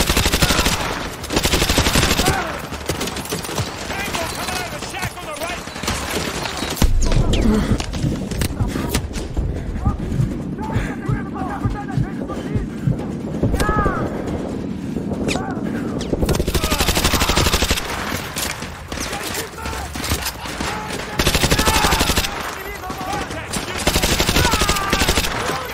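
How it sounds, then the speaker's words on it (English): Heavy gunfire in Modern Warfare 2 Remastered, with machine-gun bursts and scattered single shots coming in waves during a firefight, mixed with someone talking and game voices. "Where am I getting shot from?"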